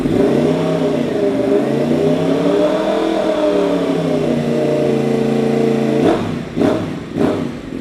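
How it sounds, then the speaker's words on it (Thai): A 2018 Yamaha MT10 motorcycle fitted with a genuine Akrapovic slip-on exhaust, loud and close, holding a high rev that swells and dips before dropping back with a couple of quick blips. "มาพร้อมกับท่อแต่งจาก อาคาโปวิกนะครับเป็นของแท้เบิกศูนย์ครับแบบสลิปออนฟังเสียงท่อคันนี้กัน"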